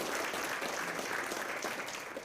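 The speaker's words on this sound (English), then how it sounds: "can we have a round of applause for him as well?" Applause from a luncheon audience for the event photographer, a steady, dense crowd clapping that fills the whole moment at an even level.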